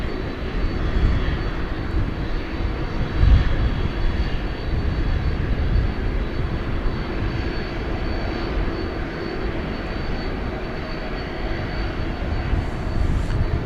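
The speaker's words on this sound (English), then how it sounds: "right over here is that 767" A Boeing 767 at DFW Airport at night gives a loud, sustained jet engine roar and whine that holds steady throughout, with a brief thump early on.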